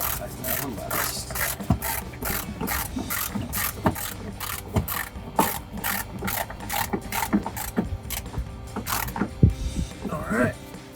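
A hand ratchet tightens a headlight mounting bolt on a 2007-2013 Chevrolet Silverado 1500 during an LED projector headlight install, giving steady repeated clicking strokes up close, with a voice briefly heard.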